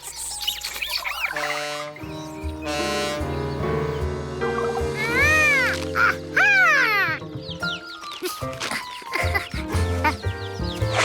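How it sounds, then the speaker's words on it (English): Cartoon chicken in trouble clucking and squawking loudly in frantic bursts over a busy animated music bed, with rising cackles and calls crowding close throughout. "That sounded like a chicken in trouble."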